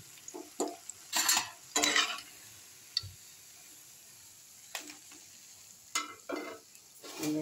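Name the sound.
white water lily flower fritters frying in hot oil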